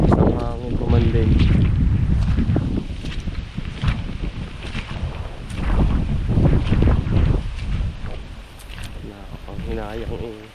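Strong gusting wind roars and buffets the microphone continuously while a person speaks over it in Filipino, outdoors near a garden.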